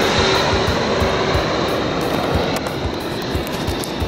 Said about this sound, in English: an airplane. That's right, on the Delaware River, right near the airport.